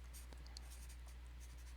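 A pen scratches across paper in quick, faint strokes and taps, close and quiet over a low steady hum, with no talking.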